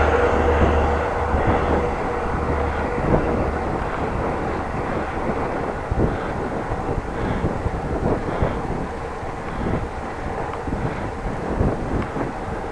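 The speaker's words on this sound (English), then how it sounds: "Can hear a train coming. There it is." A train rumbles past steadily with rhythmic clacking of wheels over rail joints near Groningen, Netherlands, mixed with gusty wind buffeting the microphone.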